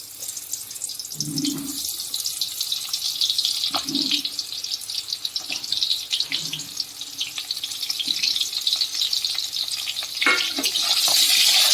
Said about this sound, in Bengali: তেল গরম হয়ে গেছে, এবার আমি দিয়ে দিচ্ছি পটলগুলো আগে ভেজে নেব।